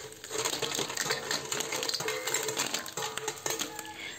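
Cleaned mussels tumble into a cooking pot with rapid clattering shell clinks and rattles, a busy, close cascade of hard knocks lasting a few seconds.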